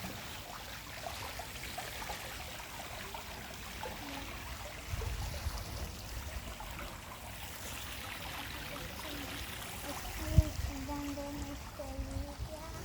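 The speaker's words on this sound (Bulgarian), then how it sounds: "Фонтанчета." Small water fountains trickle and splash steadily at moderate distance, a continuous watery wash with a few brief louder bumps.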